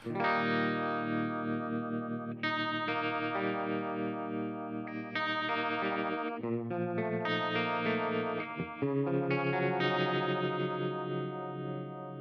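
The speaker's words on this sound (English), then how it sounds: "when you click the toe switch down, it turns on this 60s bias trem, which sounds like this" Sustained electric guitar chords ring out through a Walrus Audio Bellwether pedal's 60s bias tremolo, a wavering, pulsing effect, loud and continuous, chords changing every couple of seconds.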